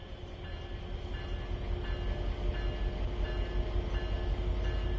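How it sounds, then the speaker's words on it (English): A video game diesel locomotive with a combined throttle and dynamic brake controller starts to pull away, its low engine rumble and rolling rail noise slowly growing louder and steadier, with no voices. "To get the train moving, move the handle into the power range."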